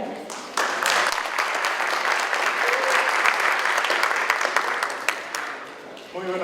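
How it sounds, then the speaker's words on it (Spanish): Strong, steady clapping from an audience at a technical talk on embedded systems and robotics, rising sharply after a brief start and holding dense and even before tapering, with a voice at the very end. "Recibamos con un fuerte aplauso a Cristian Orellana"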